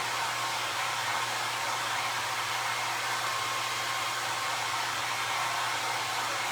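Hair dryer blowing to dry paint on a recycled tin, a steady loud broadband whoosh with a low motor hum running unbroken throughout, no voices.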